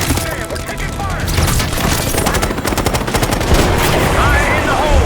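Dense gunfire from a firefight in the shooter game Call of Duty Black Ops 6, rapid automatic bursts crackling continuously and loudly over a rumbling battle bed, with voices mixed in.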